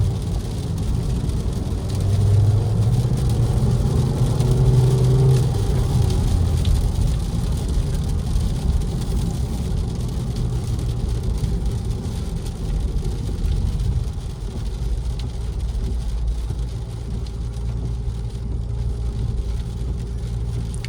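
A 2024 Audi Q2 with a 150-horsepower engine drives along, giving a steady low engine hum and road rumble from inside the cabin, moderately loud and unbroken, a faint rise in engine pitch early on, with no talk.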